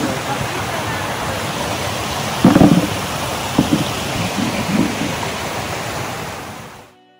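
A waterfall on a Lonavala trek pours in a loud, continuous rushing roar, with a few brief muffled voices partway through before the sound fades out at the very end.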